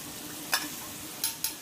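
A spoon stirs a water spinach and beef stir-fry in a pan, making three quick scraping strokes over a steady, close sizzle and bubbling.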